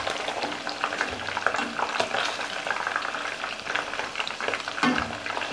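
Chicken pieces frying in hot oil crackle and sizzle steadily and close by, a dense bubbling hiss with occasional sharper pops.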